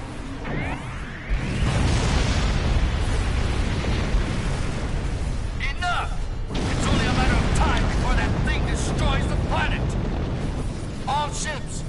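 A Doomsday Weapon firing in the space game Star Trek Online, heavy rumbling blasts and bursts that swell after a quieter opening and keep pounding under battle effects and intermittent talk.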